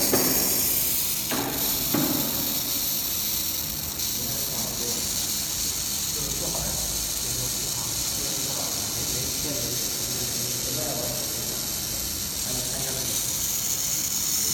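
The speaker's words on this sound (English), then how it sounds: "we need make sure the needle of the welding is in the right position between the pipe gaps" A hollow pipe making machine welds gold, silver or copper tube, giving a steady loud hiss throughout with faint mechanical ticks and clicks near the start.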